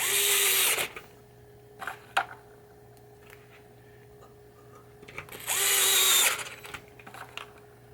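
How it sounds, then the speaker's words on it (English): A cordless gyro screwdriver whirs in two short bursts while driving screws during a 1986 Gottlieb Hollywood Heat pinball saucer rebuild, with quiet clicks and handling noises between the runs, close by. "it's a gyro screwdriver"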